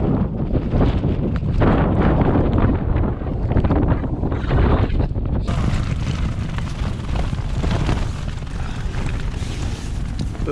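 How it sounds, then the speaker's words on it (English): Strong wind on exposed alpine tops in New Zealand's Southern Alps roars and buffets the microphone continuously, a heavy rumbling gust with no let-up, loud and close throughout. "Bit windy"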